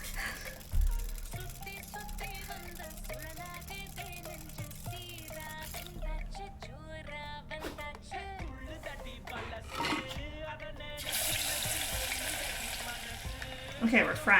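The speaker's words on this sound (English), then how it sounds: "we're frying something" Food frying in a pan in the cooking video game Venba, with a steady sizzle running under layered background music and game sounds, growing hissier and brighter toward the end.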